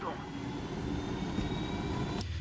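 Steady, droning rotor and engine roar of a helicopter in the Ghost Recon Wildlands video game, continuous and fairly loud, with a sharp click near the end.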